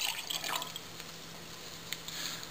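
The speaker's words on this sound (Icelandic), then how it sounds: "þá hellum við því í bikarglasið" Water is poured into a glass beaker during a solutions experiment, a soft trickling splash that fades to quiet dripping, close and fairly faint.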